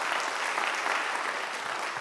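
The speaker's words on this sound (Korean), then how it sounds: "다시 한번 이금성 권사님에게 박수 한번 주시죠." A church congregation at a Friday worship service claps in steady, dense applause for an elderly deaconess, filling the room evenly from start to finish with no break.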